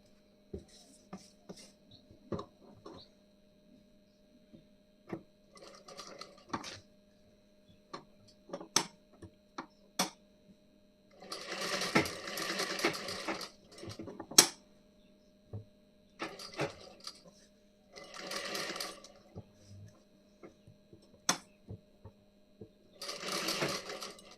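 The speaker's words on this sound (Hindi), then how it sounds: "यहाँ पे किनारे से एकदम सिलाई लगानी है" A sewing machine stitches along the edge of a blouse armhole in short, rapid bursts that stop and start, each run a steady mechanical whir with pauses between. There is no talk.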